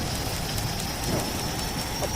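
Heavy rain pours steadily during a thunderstorm, a dense, constant wash of close drumming with no pauses and no voices.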